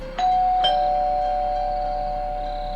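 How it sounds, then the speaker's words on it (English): A doorbell chimes twice in quick succession, two bright tones ringing out and lingering as they slowly fade. "My doorbell rung at 3:43 in the morning"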